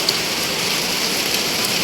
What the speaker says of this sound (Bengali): বাপরে বাইরে কি জোরে বৃষ্টি শুরু হয়ে গেছে দেখো।